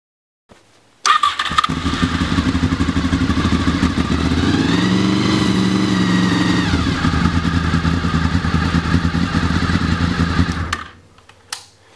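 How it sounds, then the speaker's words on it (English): A Honda VFR800 motorcycle engine cranks and catches, then idles loudly and steadily at close range for several seconds, revs slightly midway, and is switched off near the end. "I'm going to start the bike up for a couple seconds to get the oil going"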